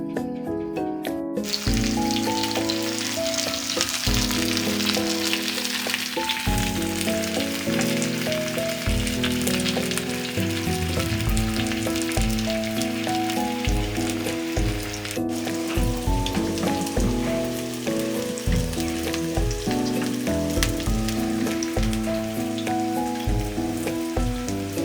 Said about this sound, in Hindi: अब हम इसमें टिंडे शामिल करेंगे और इनको फ्राई करके आपको दिखाते हैं